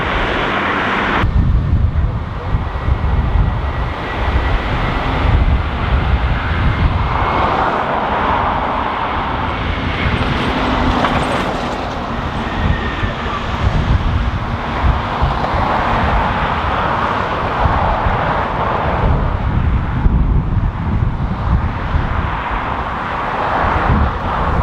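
Strong gusty wind buffeting a microphone at Dublin Airport, a loud continuous broadband roar with swelling gusts and faint aircraft engine noise underneath.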